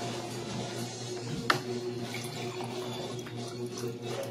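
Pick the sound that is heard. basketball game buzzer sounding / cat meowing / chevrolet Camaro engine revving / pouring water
pouring water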